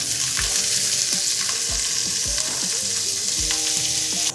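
Vegetables and chopped onions hit a hot frying pan of sausages, raising a loud, steady sizzle with repeated thuds and scrapes as pieces drop in and are stirred, continuous and close throughout.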